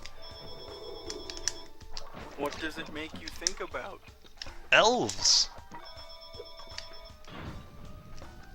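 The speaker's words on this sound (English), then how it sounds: "Whose phone is ringing?" A phone rings in short repeating bursts at a steady rhythm, heard under lively talk and game sounds during a Crash Bandicoot Warped speedrun stream.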